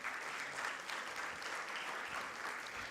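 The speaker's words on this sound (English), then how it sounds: "Let's give her a round of applause again" At a youth leadership symposium, an audience applauds a speaker, a steady even patter of many hands, faint and distant-sounding with no voices over it.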